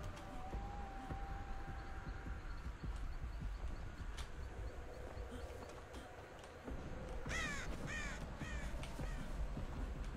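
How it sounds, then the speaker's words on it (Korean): Crows caw in the Dead by Daylight video game, a series of harsh caws near the end over quiet ambient game background, with no talk. "이거 까마귀 소리 듣고도 오겠다"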